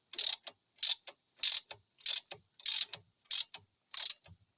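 Brake caliper bolts on a Peugeot 207 being tightened with a ratchet wrench: seven quick bursts of clicking at a steady rhythm, close and fairly loud, with short pauses between strokes and no talking.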